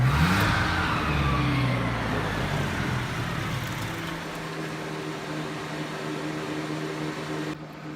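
A Mitsubishi Pajero (Montero) engine runs on choke and revs down, its note falling and then settling into a steady, uneven idle up close, with no one speaking.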